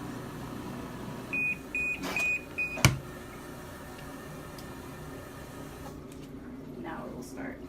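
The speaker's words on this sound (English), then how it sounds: "it's going to have this little noise like beep, beep. Like letting you know, hey, close it, we're getting ready to start the spin" A Giantex portable compact full-automatic washing machine gives a short series of about four electronic beeps, a warning to close the lid before the spin cycle, then a single sharp knock follows over a low steady hum.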